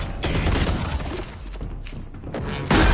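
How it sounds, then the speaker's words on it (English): Swarm grenade in Valorant goes off with a loud rattle of small bursts that thin out, then a sudden sharp blast near the end, close and forceful. "Swarm grenade out."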